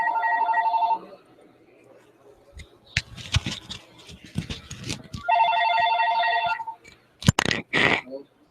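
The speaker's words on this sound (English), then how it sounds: "Stand by, the phone's ringing now." A telephone rings in two clear bursts of electronic trilling tones, separated by clattering handling noises and a short voice as the receiver is picked up, near and fairly loud.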